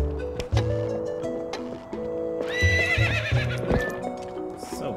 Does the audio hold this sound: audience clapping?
no